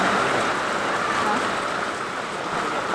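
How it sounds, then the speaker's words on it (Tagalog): Steady, dense hiss of rainfall, a constant wash of noise with no breaks or distinct drops. "Ulan na naman."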